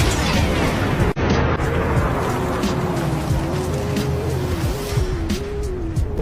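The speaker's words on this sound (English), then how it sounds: "the explosion instantly sent Anna and the dog a dozen meters away" A roadside bomb blast in a film, a sharp loud burst near the start cutting through a dense roaring rumble that carries on, with a steady tonal whine running underneath.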